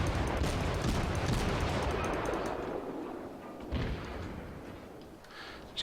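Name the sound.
ship gunfire in the video game World of Warships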